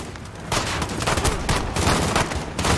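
Gunfire in the video game Call of Duty Modern Warfare, Embassy mission, comes as rapid, overlapping bursts of automatic weapons, loud and close throughout, with no speech.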